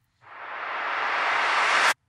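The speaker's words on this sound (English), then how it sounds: "I took one of those big claps and reversed it." A big clap sample played in reverse swells from nothing into a bright, hissing rush that builds for nearly two seconds and then cuts off abruptly.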